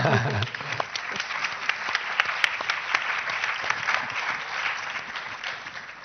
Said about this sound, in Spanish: yo creo que podemos aplaudir